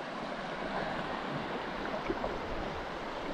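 A small river stream in the Fiordland wilderness gives a soft, continuous wash of flowing water, faint and even throughout with no voices.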